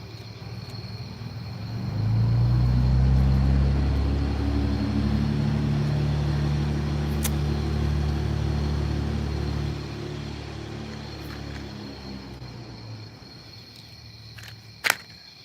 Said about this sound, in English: That's those big trucks.